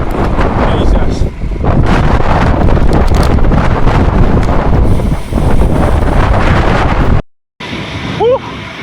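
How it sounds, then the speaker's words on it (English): Strong gusting wind roars and buffets the microphone of a cyclist riding out on an open road, loud and continuous for about seven seconds before a brief dropout, then quieter wind with a faint bird-like chirp. "the wind has really picked up"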